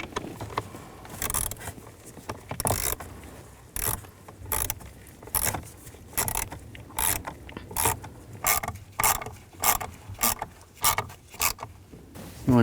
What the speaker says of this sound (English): Get the screws started. I'll tighten it down.